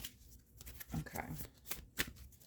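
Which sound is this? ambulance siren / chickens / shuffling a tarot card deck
shuffling a tarot card deck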